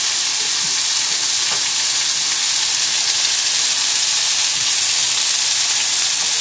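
Lamb frying with tomatoes in a hot pan gives a steady, loud, dense sizzle that holds evenly throughout with no speech.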